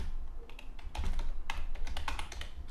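Fingers typing on a computer keyboard while entering a subject line in PHP code, a quick irregular run of close, crisp key clicks with short pauses between bursts.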